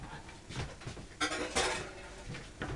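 A spoon clinks and clatters against dishes in a kitchen while a honey spice cake batter is being made, giving a few sharp metallic knocks among quieter handling noises, close by with no talk.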